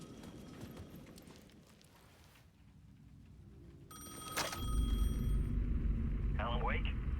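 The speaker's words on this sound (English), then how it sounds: "The payphone was ringing again." A payphone rings in the Alan Wake II video game, a short bright ring rising amid muffled game ambience and indistinct voice-like sounds before a low rumbling swell takes over.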